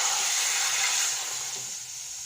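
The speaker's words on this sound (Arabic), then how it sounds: "هننزل باللبن" Milk hits a pan of frying eggplant for béchamel, setting off a loud, steady sizzling hiss that fades slightly toward the end.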